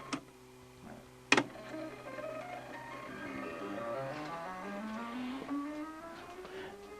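iSonic ultrasonic record cleaner spinning up to high speed for drying, a faint rising motor whine climbing steadily in pitch after a couple of sharp clicks, quiet and alone.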